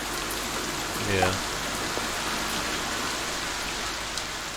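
Steady rain ambience playing as background in a Pathfinder tabletop game session, a constant hiss of falling rain throughout with a brief voice spoken over it.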